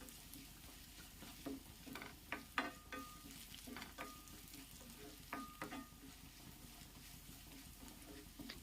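Chinese potato (koorkka) being stir-fried with chilli flakes in a pan: a steady close sizzle broken by repeated scraping, clattering stirs from a spatula, with no talking.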